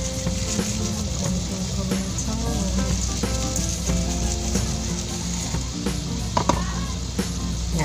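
Tomatoes frying in a pan, a steady, close sizzle running throughout with occasional clicks and stirring scrapes and faint tonal background sounds.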